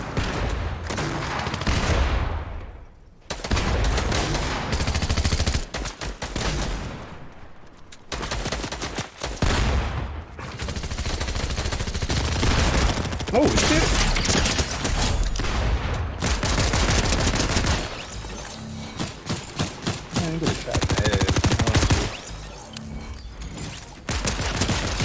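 Gunfire in the Fortnite video game: dense bursts of rapid shots and fusillades, loud and close, with short gaps between volleys and a steady stream of firing through most of the stretch.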